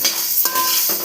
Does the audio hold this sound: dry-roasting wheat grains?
yes